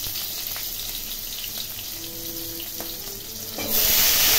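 Chopped onion dropped into hot oil already seasoned with dried chilli and panch phoron, giving a steady, loud sizzle throughout that surges sharply louder near the end as the onion hits the pan.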